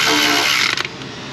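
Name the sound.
ratchet tightening a bolt on a Chevy Tahoe transmission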